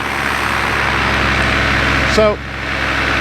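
A Polini Thor 303 paramotor engine runs at a steady, loud drone throughout, with a brief voice cutting in near the end.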